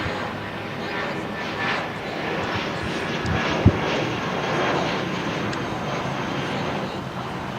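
A Volaris Airbus A320-233 jet at LAX produces a loud, continuous engine roar that stays fairly even throughout, with one brief sharp thump near the middle.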